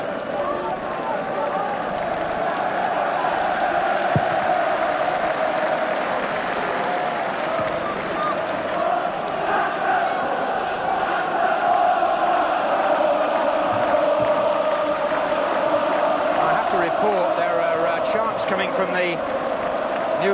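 Newcastle supporters at a 1987/88 league football match against Liverpool chant and roar as a steady, distant stadium din throughout, sustained crowd voices rising and falling slightly, with match commentary spoken over the top.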